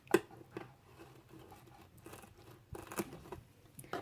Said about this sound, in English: If I can find my scissors, here they are. So I'm going to trim off these ends.